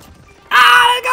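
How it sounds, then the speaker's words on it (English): Gunfire in Call of Duty Warzone Pacific erupts as a sudden, loud, sustained burst of shots after a brief quiet stretch, close and dominant, with a short dip before it resumes. "I'm getting shot by somebody else."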